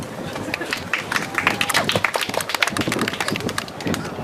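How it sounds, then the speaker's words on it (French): Scattered outdoor clapping rises from a group at a picnic by the ponds in Cergy: uneven, crisp hand claps with cheering voices and crowd chatter mixed in throughout. "on peut les applaudir s'il vous plaît"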